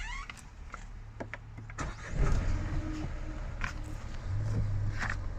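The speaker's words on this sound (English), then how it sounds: "turn the engine on just to wake it back up" A Renault Clio's engine turns over and settles into a low idle hum midway, following a few clicks and a whirring electric motor, heard nearby inside the car.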